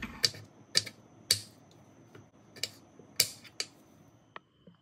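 A knife cuts raw mango into long strips on a board, making about eight sharp, separate taps at an uneven pace, close and crisp against near silence.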